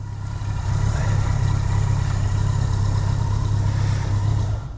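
A 1980 Kawasaki KZ1000G motorcycle engine runs steadily at a smooth, even idle, its low rumble holding close and constant from start to finish.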